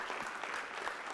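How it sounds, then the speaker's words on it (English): An audience at a gathering in Varanasi claps together, a brief burst of steady, fairly soft applause from many hands, continuous throughout. "If you guys feel connected to what she is sharing, you can clap."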